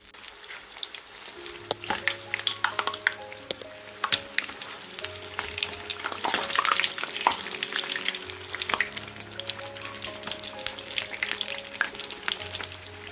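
Samosas deep-frying in hot oil, a steady bubbling sizzle with crackling pops, with a low tonal hum running underneath, and no voices.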